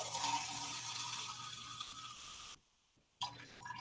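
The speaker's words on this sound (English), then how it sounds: "I'm going to fill up a little bit of water here" Tap water runs steadily into a small cup at a sink, a close, continuous hiss and splash that stops abruptly, then resumes briefly after a short silence.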